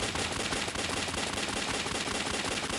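Continuous rapid gunfire from the mobile shooter game Alien Shooter, firing at aliens, a loud, dense and unbroken clatter of shots with no voices.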